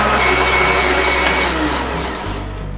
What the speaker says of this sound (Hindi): और ब्लेंडर को चला देंगे।